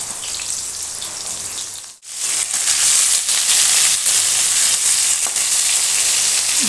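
Cut ridge gourd pieces dropped into hot oil tempered with chilli and cumin set off a loud, steady sizzle that runs on after a brief hush, with faint stirring clatter on top and no voices.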